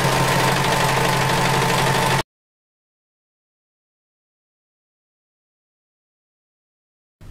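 An overlock sewing machine runs a steady, buzzing stitch through swimsuit fabric and its lining for about two seconds, then stops and leaves silence.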